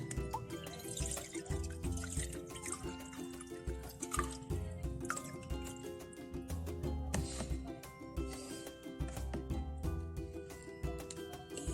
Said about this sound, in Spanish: También ahora pondré agua en el recipiente